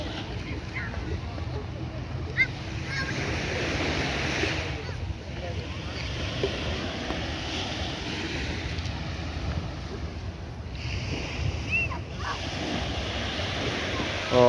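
Waves breaking along Brighton Beach on the west coast of Barbados, a continuous rushing surf mixed with wind buffeting the microphone, with faint voices in the background.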